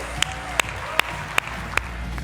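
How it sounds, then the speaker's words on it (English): Sparse applause from a conference audience at an Amazon seller event, a few distinct claps standing out over a steady low crowd wash, moderately loud and without talk. "give me a big round of applause for our next speaker"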